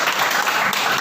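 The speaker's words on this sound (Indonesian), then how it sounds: "Bagus, saya berikan aplaus lagi." Classmates give a short burst of applause in a classroom lesson on the long jump, rewarding a student's answer with steady, fairly loud clapping.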